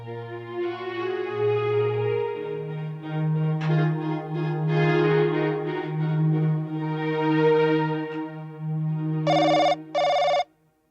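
A telephone rings in two distinct bursts near the end, loud and clear, following a stretch of sustained tonal background music in a Hindi television drama scene.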